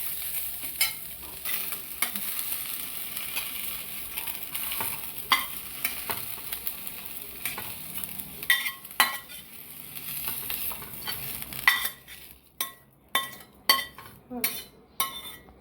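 Ingredients roast over a low gas flame for a spice paste, a soft continuous sizzle under repeated stirring scrapes, turning into a run of sharp spoon-on-pan clinks and taps near the end, close and moderately quiet.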